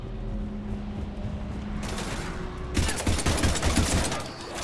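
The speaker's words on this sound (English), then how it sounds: "We're taking heavy fire." Heavy gunfire in the video game Mass Effect 3, dense rapid bursts of shots that grow louder and more continuous partway through over a low rumbling background.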